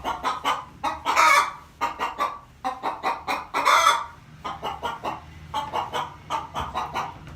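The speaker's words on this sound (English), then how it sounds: "Listen to that chicken." A hen in a chicken coop clucks agitatedly and keeps going without a break, with rapid bursts of close, loud clucks and squawks rising and falling in a steady rhythm.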